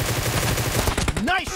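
Rapid automatic gunfire in the mobile shooter PUBG Mobile, played on an iPhone 8 Plus in a team deathmatch, rattles in a dense, loud burst of shots, and a voice briefly cuts in near the end.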